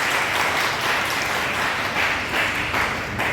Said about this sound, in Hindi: ताली बजा दो भाई यहाँ तक है।